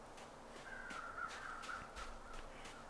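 Crows caw repeatedly in a snowy wilderness in the survival game The Long Dark, a series of harsh calls spaced across a steady windy backdrop, moderately distant and fairly quiet.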